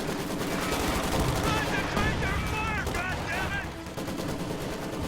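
A light artillery barrage and gunfire pound in a tank strategy game, with dense, continuous volleys of shots and booms rolling close and loud and an occasional whistling shell streaking overhead throughout.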